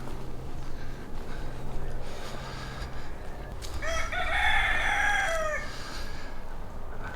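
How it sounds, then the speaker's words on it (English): Roosters crow repeatedly over scattered clucking from many chickens on the grounds near a Hawaiian temple on Oahu, the crowing loud and close in the middle stretch against steady outdoor ambience. "Wow, lots of chickens, and you hear them everywhere."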